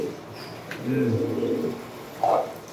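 Pigeons cooing softly nearby, a couple of low throaty coos with a brief higher call.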